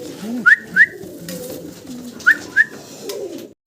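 A pair of racing pigeons coo nearby in two short pairs of soft notes, with a low murmuring background and brief pauses between the calls.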